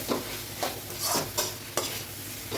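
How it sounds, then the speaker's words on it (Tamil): Snake gourd with grated coconut frying in a pan, a close sizzle broken by five or six rhythmic spatula stirs and scrapes, no voices. "இது நல்லா ஃப்ரை ஆகணும் தேங்காய் பூ"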